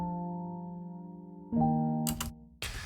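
A dry, effect-free piano melody from Arturia Piano V, a physically modelled instrument, plays sustained, clean notes with a chord change partway through, ending in a brief noisy burst.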